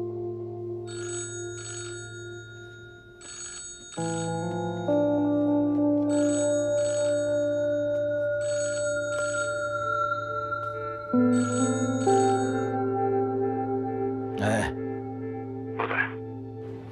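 A telephone rings during a call in repeated electronic bursts, close and fairly loud, over sustained tones.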